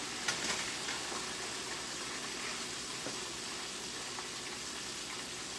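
Chicken sizzles and crackles steadily in hot oil inside a pot, a continuous frying hiss with occasional pops, heard up close.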